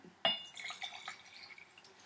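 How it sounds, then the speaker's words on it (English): Very hot water poured into a teapot while making Japanese sencha, opening with a sharp clink of ceramic, then a soft, brief splashing pour that fades out, quiet and close. "and pour that into this teapot."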